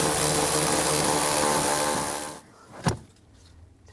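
A power tool whirs steadily on a nut under the dash of a 2000–2006 GMC Yukon, then cuts off, followed by a single sharp clink and quiet background.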